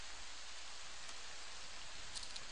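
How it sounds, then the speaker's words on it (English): Rain in the video game Fallout New Vegas, a steady, soft, even hiss of falling rain with no other sounds over it. "Oop, that rain."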